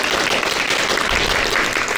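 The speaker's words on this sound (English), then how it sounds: "A round of applause to Cesar" Audience applause at a college talkback fills the room, a dense, steady wash of many hands clapping with no gaps.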